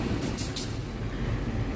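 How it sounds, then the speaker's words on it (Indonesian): A train rolls through a station crossing at Cicalengka in Indonesia, a dense close rumble of wheels and carriages with faint hissing bursts at the start, loud and continuous throughout. "Dan di sini kita akan bersilang dengan kereta api Pangandaran."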